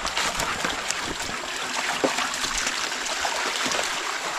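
Bingo the dog playing in water outdoors, with a steady running-stream wash and scattered small splashes and slaps throughout, continuous and fairly close.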